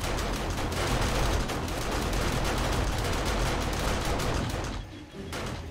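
Rapid, continuous bursts of gunfire in the video game 7 Days To Die, heavy and rattling like automatic weapons, with a brief dip near the end before the shooting resumes.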